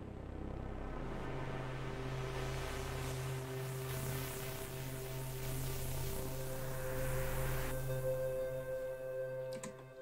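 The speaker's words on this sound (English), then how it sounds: "Just a couple layers of synths with a white noise riser in there." Electronic video game music loop with drums, a couple of layered synth parts and a white noise riser building underneath, steady and dense with sustained tones and a swell of hiss toward the end.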